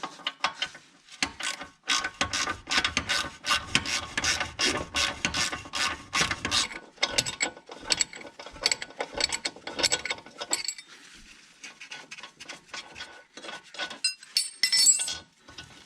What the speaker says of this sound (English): I'm just gonna run this thread chaser over the last bit.